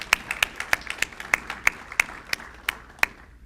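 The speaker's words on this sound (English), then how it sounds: "a round of applause to congratulate these outstanding efforts" Applause at a 2014 beautification awards ceremony: a modest crowd claps steadily, individual claps standing out in a loose rhythm before the clapping thins out.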